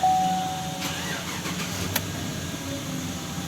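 A 2016 Chevrolet Tahoe, just fitted with a new ignition coil, starts up: a brief starter crank, then the engine catches and settles into a steady idle close by, with no talking.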